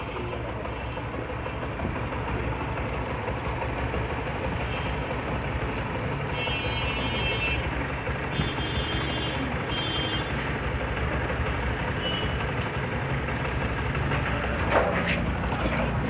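A motorbike engine idling during an engine flush, a steady low rumbling drone with a continuous mechanical hum, close and constant, with faint high tones briefly appearing midway.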